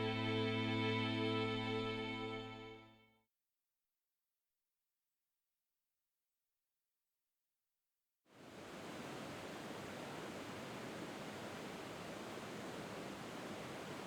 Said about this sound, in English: We are here at the Falls of St.